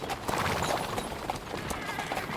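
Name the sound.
horse hooves while riding, from video game Kingdom Come Deliverance 2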